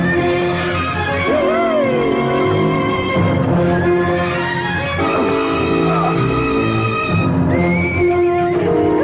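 A horse whinnies loudly in long wavering neighs, close and continuous, with several overlapping calls.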